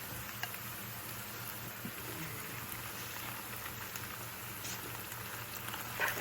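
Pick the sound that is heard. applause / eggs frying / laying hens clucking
eggs frying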